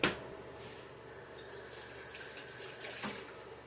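A tap runs while tomatoes are washed under it, giving a soft, steady stream of water with a brief splash at the start and another near the end. It is fairly faint, with no voices.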